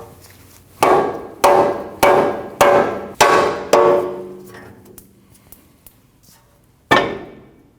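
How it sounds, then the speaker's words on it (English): Six heavy, ringing rubber hammer blows on a Nissan NV2500 steering knuckle at a steady pace, then a pause and a final strike, each ringing out briefly. "you want to hit your knuckle here with the rubber hammer"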